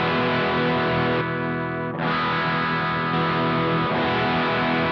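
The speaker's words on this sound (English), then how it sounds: "you just get some nice saturated distortion or overdrive over that just to sweeten it up" Electric guitar driven through a Nux XTC overdrive pedal into a Marshall amp, a loud, saturated, sustained distorted tone with a brief dip in the middle before ringing on again, no voices.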